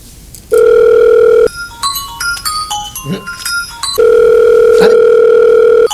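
A steady telephone dial tone, then a quick run of electronic keypad tones as a number is entered, and the dial tone returns before a short chirp.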